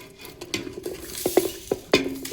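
A spoon scrapes and taps in a pot as sesame seeds are stirred into a sweet mixture for a village Sankranthi treat, soft irregular clinks and scrapes close by with no talking.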